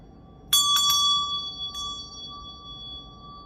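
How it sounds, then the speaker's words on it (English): Meditation bell struck once with a bright ring, a quick second touch following, then a clear pure tone decaying slowly in a quiet room. "I am going to ring my meditation bell"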